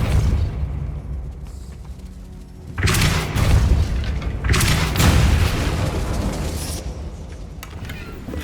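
Depulso spell blasts from the video game Hogwarts Legacy, two heavy booming bursts a couple of seconds apart over a low rumbling game background, loud and near.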